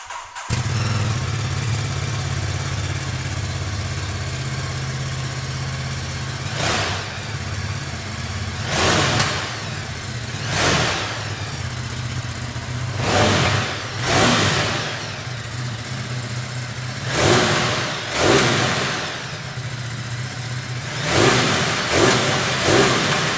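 A Ducati Multistrada 950S motorcycle fires up and settles into an idle, then is revved repeatedly in sharp bursts, roughly eight throttle blips spaced a few seconds apart, close and loud.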